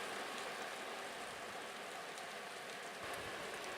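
Steady, dense rushing water of Spray Falls, dropping off a cliff into Lake Superior at Pictured Rocks, Michigan, roars without pause, a broad constant wash of falling water.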